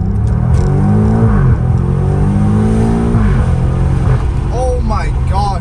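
A BMW M5 Competition engine pulls hard from inside the cabin, with loud rising rumble and repeated upshift sweeps, while a voice talks over the roar.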